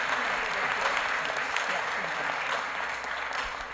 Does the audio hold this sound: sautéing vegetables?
no